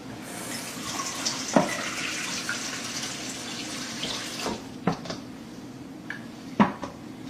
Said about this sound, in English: One we're going to wash with regular tap water.